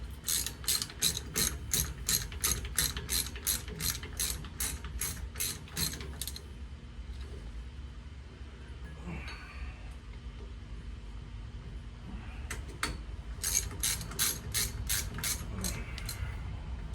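A hand ratchet clicks in rapid, even bursts while tightening bolts during an axle bearing install, then pauses before another fast run of clicks; close and clear.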